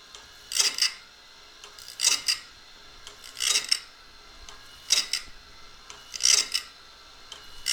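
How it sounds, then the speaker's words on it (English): A drag sharpener's stone grinds the teeth of a Woodmizer bandsaw blade in five evenly spaced rasping strokes, each a short bright scrape with quiet gaps between. "that is the stone coming down the front of the tooth and coming up the back with a good hit"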